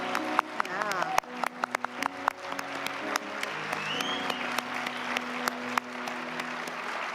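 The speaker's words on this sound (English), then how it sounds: "Please stay standing and we can acknowledge them with some applause." A church congregation gives scattered, fairly quiet applause to welcome new members. Sharp individual claps stand out over a murmuring room with voices underneath.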